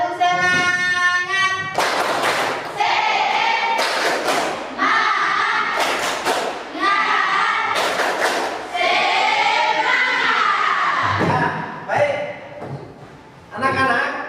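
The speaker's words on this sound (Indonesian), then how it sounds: "Kita tepuk semangat ya." Classroom of ninth-grade students doing a rhythmic clapping chant together, loud bursts of group clapping and voices alternating in a patterned beat, close and energetic, with the teacher's voice in between.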